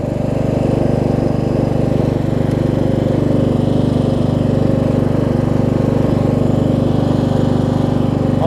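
A Craftsman LT1000 lawn tractor engine runs at full throttle with the blades engaged, a loud, steady, close drone with a fast even beat that holds without surging and has no talking over it.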